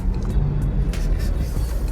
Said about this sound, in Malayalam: ഞാൻ ആദ്യമായിട്ടാണ് ഫോർച്യൂണർ ഓടിക്കുന്നത്